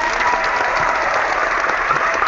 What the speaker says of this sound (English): Round of applause for Lauren Davis.